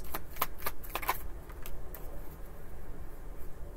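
Tarot cards shuffled to draw another, a few light riffling flicks close by early on, then a steady low hiss of room noise, fairly quiet, with no voices.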